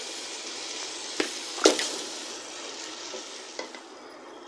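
Marinated goat mutton frying in a pan of spices and green chilli paste for dum biryani, a steady bright sizzle broken by a few sharp stirring scrapes and clatters.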